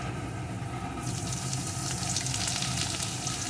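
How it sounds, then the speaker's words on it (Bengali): Chopped onion sizzling with garlic cloves in hot oil, a steady frying hiss that swells louder after the first second and continues alone without voices. "পেঁয়াজ কুচিটাও একটু ভেজে নেব।"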